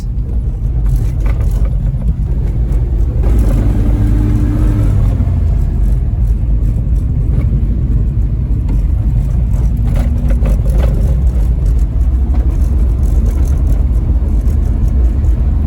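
A classic Ford Taunus car engine runs steadily from inside the moving vehicle, a loud, continuous low-pitched drone with slight rises in revs and no talking.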